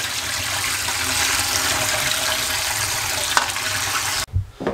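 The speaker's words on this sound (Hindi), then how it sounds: "ये स्ट्रेनर यहाँ रख दें, ठंडे वाली टूटी चला दें इस तरीके से" Cold tap water runs steadily over boiled spaghetti in a strainer, a close, even rush of splashing that cuts off near the end, leaving a few faint clinks.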